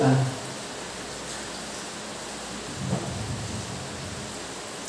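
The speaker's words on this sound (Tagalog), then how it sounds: "Salamat sa ulan, Ginoo, ngayong padagayday" Heavy rain pours steadily in a broad, constant wash, with a low rumble of thunder rolling in about midway through and no voices over it.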